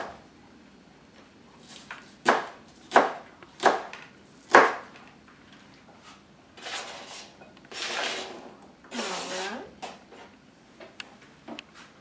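A knife dices scallions on a cutting board, with four crisp, evenly spaced chops up close, followed by softer scraping and sliding sounds.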